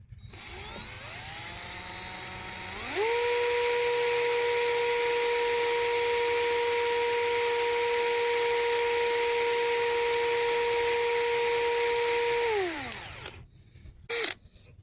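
An old Dremel rotary tool with a sanding bit smooths a scrap go-kart part: a high, steady whine winds up, holds for about ten seconds at full pitch, then spins down, followed by a short burst of grinding.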